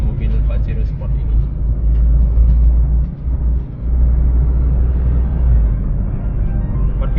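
A Mitsubishi Pajero Sport Exceed with a diesel engine and automatic gearbox is on the move, giving a steady, loud low engine and road rumble throughout with a brief dip midway, and a voice talks over it.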